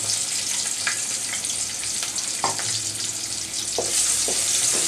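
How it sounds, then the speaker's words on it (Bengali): Chopped onion and garlic fry in hot oil for a red amaranth and lentil dish, giving a loud, even sizzle with scattered sharp crackles and pops, close by and without talk. "আমি প্রথমে পরিমাণ মতো তেল গরম করে নিয়েছি দিয়ে দিচ্ছি অল্প পেঁয়াজ কুচি দিয়ে দিলাম চারকুশ রসুন"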